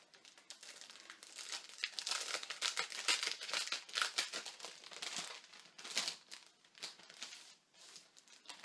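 Plastic packaging crinkles and rustles as a greeting-card kit from the Action store is opened by hand, close and fairly quiet continuous crumpling with small tearing bursts.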